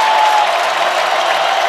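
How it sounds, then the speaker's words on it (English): Basketball crowd at a Michigan versus Michigan State men's game roars and applauds loudly in a dense, sustained wash of cheering. "This crowd is fully on its feet."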